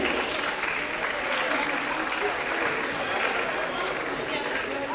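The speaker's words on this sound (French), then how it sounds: "Je pense qu'on peut les applaudir très fort pour les encourager." A roller derby crowd applauds loudly and steadily, dense clapping filling the venue for several seconds without pause.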